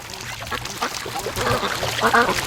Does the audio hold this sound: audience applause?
no